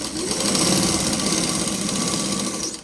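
A sewing machine runs steadily while stitching a blouse sleeve joint, its close, continuous motor hum and rapid needle rattle lasting nearly three seconds before stopping abruptly.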